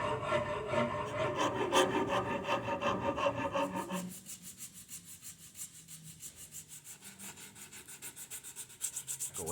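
A rasp works Spanish cedar while shaping a guitar neck, making steady back-and-forth scraping strokes, close and rhythmic, with a short pause before a lighter, evenly pulsing run of strokes.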